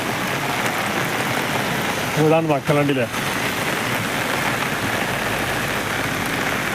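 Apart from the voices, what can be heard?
heavy rain at NH 66 Randathani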